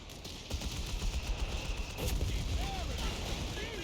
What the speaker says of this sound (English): AT rifles hit the Flakverling, forcing it back